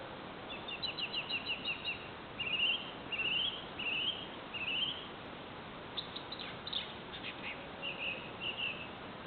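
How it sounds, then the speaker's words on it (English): Wild birds in a garden give repeated short whistled chirps in bursts across the clip, fairly faint against a steady hissing background of insects or ambience. "Trying to catch a bird whistle."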